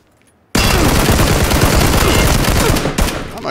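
Dense automatic gunfire in PUBG (PlayerUnknown's Battlegrounds), loud and close, a sustained burst of rapid shots that runs almost the whole time after a sudden start, with no speech over it.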